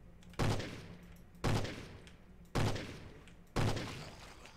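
Cannon fire from the indie video game Cthon with an upgraded fire rate: four heavy, loud booming blasts about one second apart, each with a sharp attack and a decaying rumble, with no talk over them.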